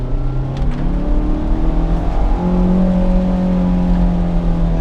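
A Fiat van engine drones loudly from close by, its pitch climbing steadily to nearly 4,000 RPM as it revs up through second gear.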